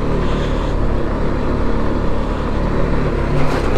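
A BMW G310GS motorcycle engine drones steadily while the bike is ridden standing up off road, a loud, dense, continuous roar mixed with wind and rumble throughout.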